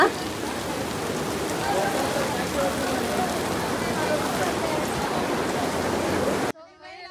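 Steady heavy rain falling outdoors at the entrance of Hasanamba Temple in Hassan, a dense continuous hiss of drops on surfaces lasting several seconds, close and loud, with faint voices underneath before it cuts off.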